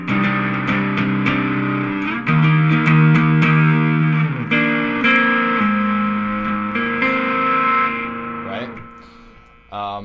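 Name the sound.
electric guitar playing rocking outro chords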